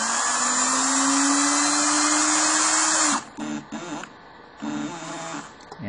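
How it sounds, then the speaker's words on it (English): A universal motor with a gearbox runs on a DC bench power supply, whining loudly with a pitch that creeps slowly upward, then stops abruptly and gives a few short, uneven bursts of running. "universal motors, super common, very powerful"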